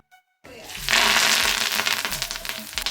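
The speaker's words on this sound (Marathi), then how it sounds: "कैरीची डाळ म्हणलं की अशी मस्तपैकी तडका फोडणी तर झालीच पाहिजे." Whole spices crackling and sizzling in hot oil for a tadka tempering over raw mango dal; after a brief quiet start, a loud, dense sizzle bursts in and keeps popping steadily to the end.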